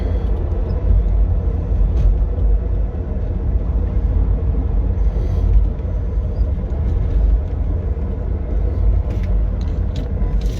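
A car is driven on the road after a Rislone transmission stop-slip treatment was added to the gearbox, giving a loud, steady low engine and road rumble with faint ticks and rattles near the end.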